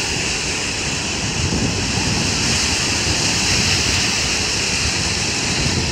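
Large sea waves roll onto a beach at a seaside resort, making a steady, loud wash of surf with wind buffeting the microphone and no clear breaks.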